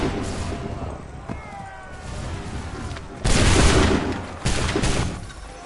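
Musket volleys crack out in an Assassin's Creed 3 battle, with a loud broadband burst of gunfire around the three-second mark and another shortly after, over a steady din of fighting.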